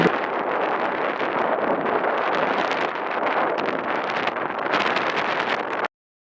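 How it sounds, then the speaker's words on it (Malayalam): Strong wind at a high hilltop viewpoint on a hill road near Valparai roars across the microphone in a loud, constant buffeting rush that lasts about six seconds and then cuts off. "നമ്മൾ നിൽക്കുന്നത് നല്ല ഹൈറ്റിലാണ്, നല്ല കാറ്റുമുണ്ട്."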